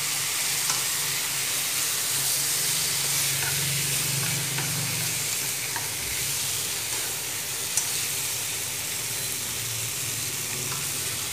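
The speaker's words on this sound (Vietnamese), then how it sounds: "bây giờ mình cho vào mình xào chung nha các bạn" Chili pieces stir-fried with frog, lemongrass and turmeric in a hot pan give off a steady, loud sizzle and hiss that runs unbroken throughout, with faint stirring scrapes and no talking.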